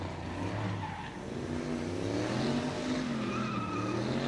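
An Oldsmobile Cutlass drifting at a drift pit event, its tires squealing in a long wavering screech over a loud engine roar, continuous and fairly close.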